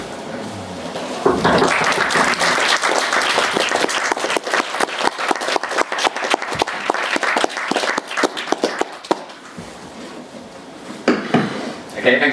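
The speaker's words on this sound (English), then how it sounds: "I guess you heard us applause though, right?" Audience applause after an academic talk at a lecture event, a sustained burst of many hands clapping that swells, thins out and briefly picks up again near the end, with faint talk in the room.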